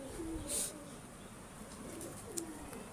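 A breeder's pigeon coos softly in low, rolling phrases, repeating a few times with faint higher chirps and a brief bright squeak above a quiet background hum.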